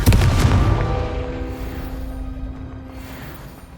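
A Confringo blasting spell in the Hogwarts Legacy video game goes off as a loud, deep explosion right at the start, then decays into a long rumbling tail with a sustained tonal ring fading over several seconds.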